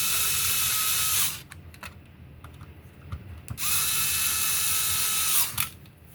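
Screws for a Nintendo GameCube DOL-001 are driven back in with a small electric driver, giving two steady whining bursts of a second or so each with a quieter pause between them.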